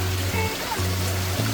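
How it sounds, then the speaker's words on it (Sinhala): Small water streams trickle near Bomburu Ella waterfall in Nuwara Eliya, giving a steady, close rushing hiss with a low droning hum running underneath throughout. "ඔක්කොටම කලින් පොඩි පොඩි වතුර පාරවල් තියෙනවා"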